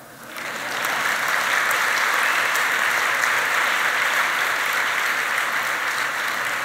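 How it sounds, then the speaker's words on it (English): An audience claps at a 2017 celebration event, with applause swelling within the first second into a dense, steady wash that holds loud and even throughout. "it's okay if you clap"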